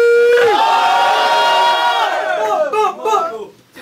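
A crowd at a rap battle event erupts in loud cheering and shouting. A dense roar of many voices swells at first, then breaks into ragged yells and whoops, close and intense.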